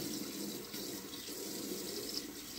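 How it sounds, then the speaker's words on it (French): A bathroom tap runs steadily for shaving, a continuous close hiss of water splashing into a sink with no pauses or voices. "ce que je fais en premier, on prend de l'eau"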